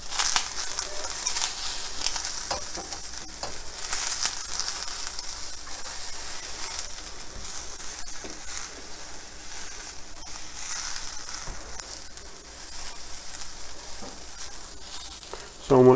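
Onions sizzle and caramelize steadily in a pan on the stove, a continuous close crackling fry with soft hiss and occasional spatter, the sizzle swelling and easing slightly over time with no talking.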